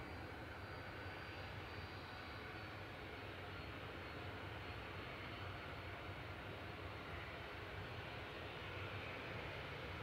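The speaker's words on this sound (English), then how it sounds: "This is Ryanair off to Brussels adjacent, 737-800, EIEXF, flight 3238." A Ryanair Boeing 737-800 jet departs Manchester Airport with a steady, broadband engine roar, faint and distant, holding constant for the whole stretch with no talk.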